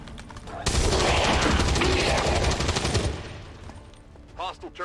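Gunfire in XCOM 2 comes as a loud, sustained automatic volley lasting a couple of seconds. It then fades into quieter tail noise, with a brief electronic chirp near the end.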